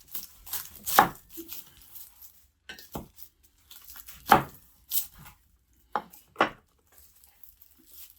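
Knife cutting garlic cloves on a cutting board, a handful of sharp separate chops and taps spaced unevenly, close and clear with quiet handling noise between them.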